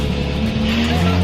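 An Aston Martin sports car accelerates hard, its engine roaring loudly while the tires squeal in a sustained, close screech.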